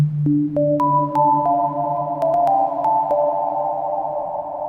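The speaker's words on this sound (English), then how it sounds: "We've got one sine wave going." A pure sine wave tone steps through a few pitches, each note smeared into a long, washy heavy reverb tail with high modulation that lingers and builds.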